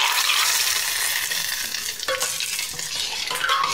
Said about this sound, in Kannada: ಒಗ್ಗರಣೆ ಹಾಕು ಇದಕ್ಕೆ ಒಂದು